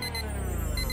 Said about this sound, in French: C'est une alarme.